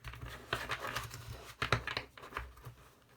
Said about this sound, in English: Oh, that was really bad shuffling.